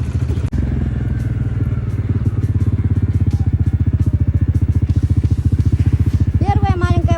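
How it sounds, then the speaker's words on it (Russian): A big white quad bike's engine runs loud and close, a steady throbbing putter throughout, and a voice briefly speaks over it near the end. "большой квадроцикл, белый,"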